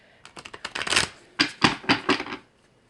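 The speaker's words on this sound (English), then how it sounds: "I'm gonna do a quick shuffle here." A deck of tarot cards shuffled quickly by hand in two brisk riffling bursts of fluttering card flicks, close and crisp, with no talking.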